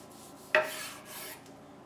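A knife draws through smoked brisket in one short scraping slice, close and fairly quiet, with a soft rasp trailing off.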